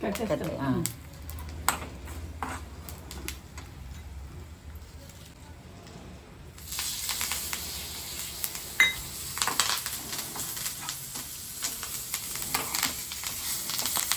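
Asafoetida, dried red chilies and curry leaves hit hot ghee in a pan, a sudden bright sizzle that swells and crackles steadily with occasional utensil clinks, following a quieter stretch, while a person talks.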